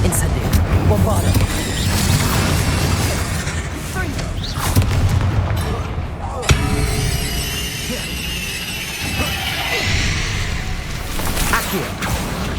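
Spell blasts in Hogwarts Legacy, including Bombarda explosions, as a loud continuous rumble of booms and impacts with a sharp crack partway through, under a voice shouting spell names.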